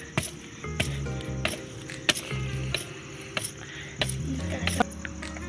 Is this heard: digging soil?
yes